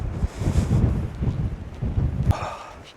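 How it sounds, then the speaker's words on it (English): Strong gusts of wind on a Cornish coastal path thump and roar against the microphone in uneven surges, easing off toward the end. "Oh, it is windy today"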